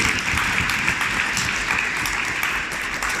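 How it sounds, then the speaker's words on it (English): Church congregation applauding confirmation candidates, an even, sustained wash of many hands clapping at moderate volume with little else heard. "Can we give them a round of applause?"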